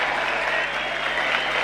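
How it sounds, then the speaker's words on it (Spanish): Crowd applause at a tennis event in Luanco, a steady, dense wash of clapping from a sizable audience that carries on without a break from start to finish. "En función de los aplausos, ¿vuelve Pedro Cachín el año que viene o no?"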